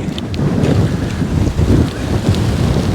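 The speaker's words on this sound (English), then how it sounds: "It's absolutely chucking down and the wind is really bad" Strong wind buffets the microphone on a stormy Dorset shore during heavy rain at sea. Gusts sound as loud rumbling blasts over a constant rushing hiss of rain and surf.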